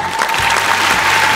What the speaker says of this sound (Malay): Tepukan untuk kita semua